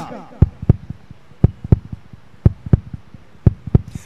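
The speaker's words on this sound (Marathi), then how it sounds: "ठकठक नाही, हृदयाचे ठोके आहेत, नीट ऐका." A heartbeat sound effect plays during commentary on a cricket semifinal: steady paired thumps, lub-dub, about six double beats at an even pace, loud and close with a faint hiss behind.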